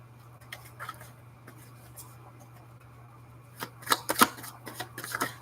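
Oracle cards shuffled by hand, soft papery riffles and taps close up, scattered at first and then a quicker burst of crisp snaps near the end in a quiet room.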